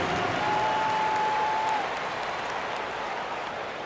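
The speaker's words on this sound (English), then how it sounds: "Give me a round of applause." Applause from an arena crowd at a Toronto Raptors versus Orlando Magic basketball game, a broad steady wash of clapping heard at a distance, fading slightly toward the end, with a faint sustained tone over it early on.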